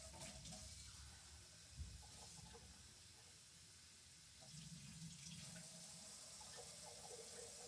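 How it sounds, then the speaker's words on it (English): Warm water runs from a tap into a sink in a steady, faint hiss, swelling slightly in flow partway through, with no talking. "And a cup of warm water."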